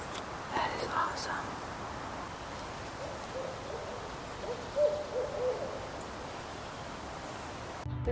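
Night-time owl calls at a Bear Brook State Park campground in New Hampshire, several faint hoots sounding far off over a constant wash of background noise.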